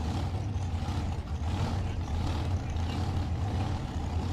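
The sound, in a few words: supercharged dragster engine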